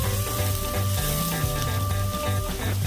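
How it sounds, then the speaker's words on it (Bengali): Ground cumin, chilli and turmeric fry in a pan with a continuous close sizzle, broken by soft stirring movements, and nobody speaks. "দেখো মশলাটা আমাদের প্রায় ভাজা ভাজা হয়ে গেছে"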